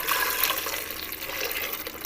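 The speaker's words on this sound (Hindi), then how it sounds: "इसमें सादा पानी डालेंगे तकरीबन 1 लीटर के करीब" About a litre of plain water poured into a pot of peeled apples, a short continuous splashing gush that stays fairly loud throughout.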